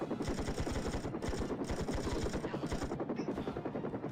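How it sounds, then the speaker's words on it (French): Gunfire in the PS1 game 007 Tomorrow Never Dies: continuous rapid automatic shots in an even rattling rhythm, fairly faint, with no talking. "Le bruit des armes, ça va encore, je trouve."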